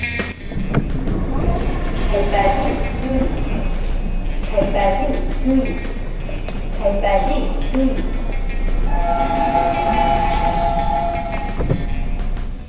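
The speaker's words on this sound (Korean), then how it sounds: "열차는 군자역을 출발한 지 약 6분이 지나고 사가정역에 정차합니다" Rumbling Seoul subway train sound with a steady low drone, squealing tones rising and falling as it brakes, and a sustained whine near the end as it halts at Sagajeong Station during evening rush hour.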